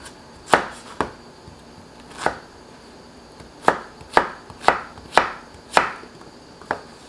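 A knife chops zucchini into thick pieces on a wooden board, sharp uneven thuds spaced out then quickening, close and clear with no talking.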